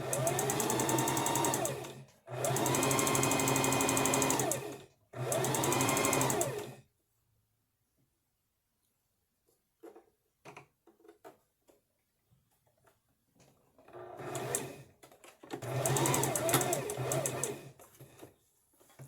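A sewing machine stitches fabric in bursts of rapid, steady mechanical ticking, loud and close, separated by quiet pauses with scattered handling clicks.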